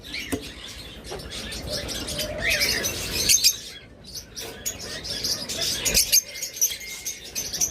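A pair of caged lovebirds at a pet bird shop chirp and tweet in short, scattered bursts. The calls are fairly faint over a low background hiss, with a few brighter notes standing out.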